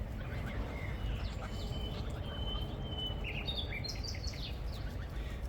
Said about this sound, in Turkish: Sadece kuş sesi duyuyorsunuz etrafta.